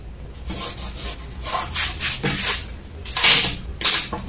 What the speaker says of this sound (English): I'll cut out this back pattern